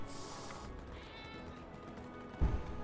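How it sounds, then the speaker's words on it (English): Several cats meow in Final Fantasy VII Remake, a cluster of mewing calls over steady game ambience, followed by a louder thud near the end. "there's a lot of cats in there"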